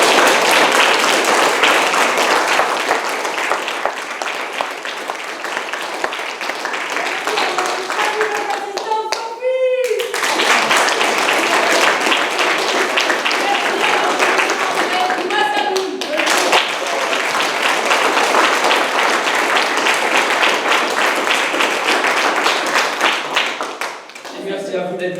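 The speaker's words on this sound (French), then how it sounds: "on peut les applaudir." Audience applause in a village festival hall during an opera event, loud continuous clapping from a crowd lasting about twenty-five seconds, with brief voices and a short tonal sound rising through it.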